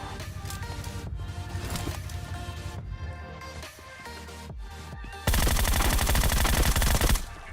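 Rapid automatic gunfire from a Groza rifle in PUBG Mobile crackles in sustained bursts, then a sudden louder, harsher stretch of continuous shooting close up, including shots at a gas can, with game ambience beneath.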